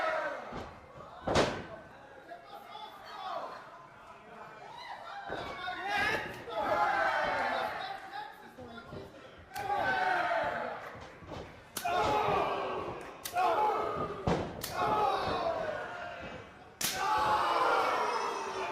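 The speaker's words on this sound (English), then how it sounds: "now trading shots back and forth. Forearms are flying, fans." Forearm strikes trade back and forth in a professional wrestling match between Eli Emerson and Marty Snow, sharp slaps and thuds landing in irregular bursts over a steady crowd roar.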